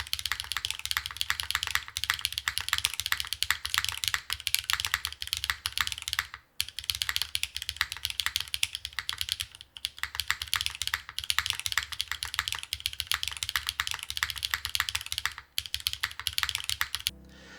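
Rapid, continuous clacking of a Zero-G EM-01 mechanical keyboard with no case foam, typed on up close, with brief pauses between bursts of keystrokes.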